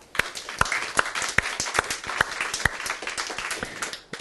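A church congregation applauding: a burst of many hands clapping with sharp, rhythmic claps standing out at a steady beat, moderately close, no voices over it.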